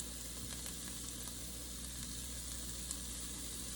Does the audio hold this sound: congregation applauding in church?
no